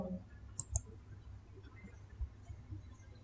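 Two quick, faint computer mouse clicks close together near the start, followed by quiet room noise and small soft taps.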